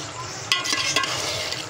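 Pressure-cooked mutton is stir-fried in a pot over a steady sizzle, with two brief scraping strokes of a spoon against the pot in a short burst.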